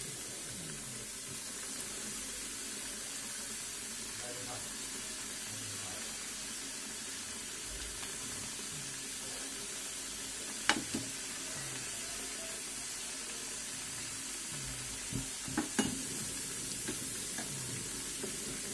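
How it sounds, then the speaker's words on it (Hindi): Bajra til tikkis sizzle gently in oil in a pan, a soft steady frying hiss running throughout with a few faint clicks and taps of utensils near the middle and end. "तो एक एक करके डाल देते हैं और धीरे धीरे करके हम इनको फ्राई कर लेंगे।"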